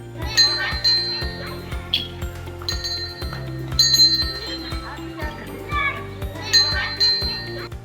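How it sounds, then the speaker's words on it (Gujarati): Children at a government primary school in Vaghgadh village, Morbi district, Gujarat, climb a rope and ring a metal school bell. Bright clangs recur amid lively children's voices and background noise. "રમતા રમતા રસી ઉપર ચડીને ઘંટ વગાડતા આ છોકરાઓ કોઈ એડવેન્ચર કેમ્પના નથી"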